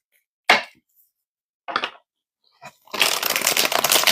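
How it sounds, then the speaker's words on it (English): Tarot cards being shuffled, with a few short riffling bursts separated by pauses and then a longer, louder continuous shuffle, close up and alone. "Let me shuffle this one more time."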